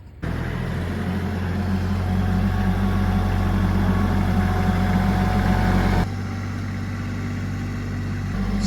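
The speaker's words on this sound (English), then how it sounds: "We'll let the tractor warm up" A tractor engine idles while warming up before lifting a heavy steel load with forks: a loud, steady low rumble with a constant hum that drops slightly in level partway through, with no talking.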